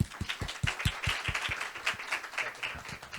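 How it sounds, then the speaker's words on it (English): Audience applause for the presenters at an international workshop on cities and infrastructure, a steady patter of many hands clapping at moderate distance with no talk over it. "I would like also to thank all the presenters of today and wish a round of applause"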